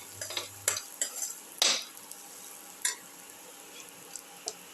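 Soft scraping and clinking of a utensil stirring a ginger, eggplant and tomato casserole mixture in a pan, in a series of short, irregular strokes over a faint sizzle, close and quiet with no talk.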